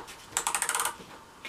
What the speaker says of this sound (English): You can hear that ratchet in there, nice and tight.